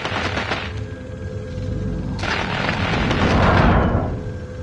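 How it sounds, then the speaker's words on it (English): Airstrike explosions in a Call of Duty-style shooter: a broad, loud roaring blast swells in around two seconds and rumbles on before fading, with battlefield noise underneath and no talking. "Target area is marked. You're clear. This is Striker 3-1. Good copy. Strike inbound."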